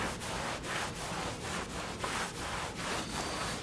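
A magic eraser rubbed back and forth over crayon marks on a wall makes a close, scratchy scrubbing sound in a steady rhythm of about a dozen quick strokes.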